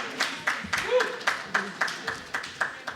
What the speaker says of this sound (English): Please give him a warm round of applause to Gabriel